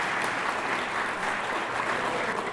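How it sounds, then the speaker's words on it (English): An audience at a 2018 Sheerit Hapleitah gathering in Chicago claps in a dense, steady round of applause that fills the whole stretch at an even, fairly loud level. "let's give them a round of applause"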